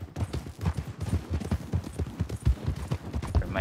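Horse hooves clip-clop steadily in Red Dead Redemption 2 as the rider's mount trots along, a fairly quick, even rhythm of soft thuds running throughout at moderate loudness.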